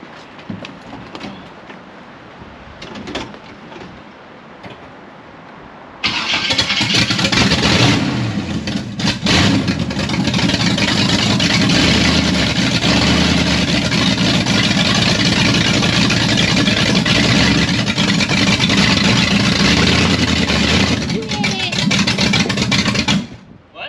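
A 1956 Chevy long-roof gasser's engine fires up after quiet talk and settles into a loud, steady, rumbling run that holds for most of the stretch before cutting off near the end.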